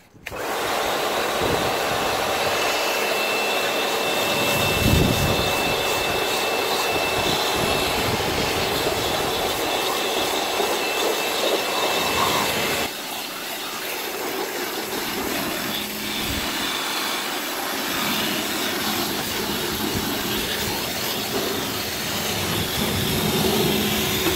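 A car being rinsed with water during detailing, a loud continuous hiss of spray running for the whole stretch, shifting briefly midway, with no talking.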